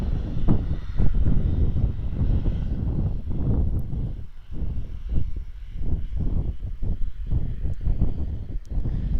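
An aircraft engine drones at Tauranga airport's runway, a steady rumble that rises and falls over several seconds, with no talking.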